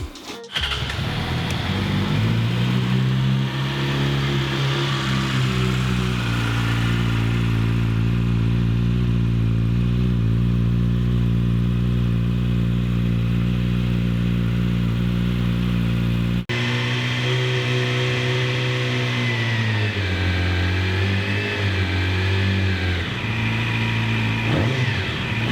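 A Yamaha R6 sport motorcycle fitted with a new GYTR exhaust and pre-silencer idles and revs loudly and close, its steady engine drone rising and falling through repeated throttle blips, with a brief cut around the midpoint before the revving resumes.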